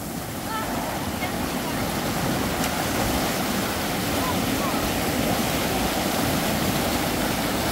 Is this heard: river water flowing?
yes